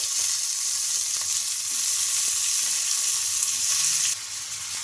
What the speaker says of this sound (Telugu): ఇంకా ఈ ఉల్లిపాయ ముక్కలు అయితే కాస్త లైట్ కలర్ వచ్చే వరకు అయితే ఫ్రై చేసుకుందాం